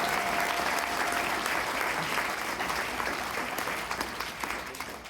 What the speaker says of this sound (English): Let's give a round of applause for that last administration.